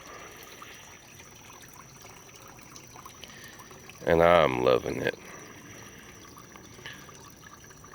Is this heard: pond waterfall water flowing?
yes